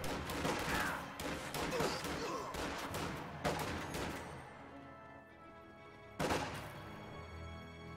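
Rapid volleys of rifle fire from riflemen engaging grenadiers in a real-time strategy war game, dense crackling bursts through the first half, a brief lull, then another sharp burst near the end, loud and close under faint background activity.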